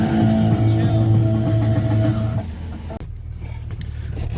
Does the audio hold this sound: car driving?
yes